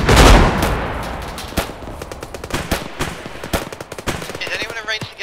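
Gunfire in the military video game Arma: a loud burst opening, then scattered shots and short automatic bursts cracking at irregular intervals, some near and some distant.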